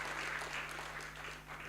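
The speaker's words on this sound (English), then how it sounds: "Let's applaud him as Mr." Audience applauding at a student anti-corruption awards ceremony, a dense continuous patter of clapping with a low electrical hum underneath.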